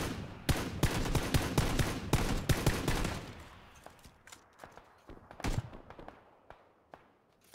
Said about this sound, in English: Shooting northeast.